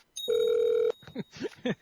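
A telephone ringback tone sounds once as a steady electronic burr during a call, followed by a voice talking nearby.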